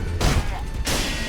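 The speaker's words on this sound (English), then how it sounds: "it seemed like the firecrackers actually did something" Firecrackers going off in the video game Sekiro: Shadows Die Twice, a dense burst of sharp crackling pops that fills most of the moment, ending abruptly then resuming, loud and close.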